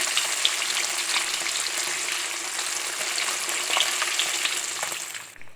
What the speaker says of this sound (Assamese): এয়া তেলত মাছকেইডোখৰ দি দিলোঁ। এতিয়া সিজিছে লাহে লাহে।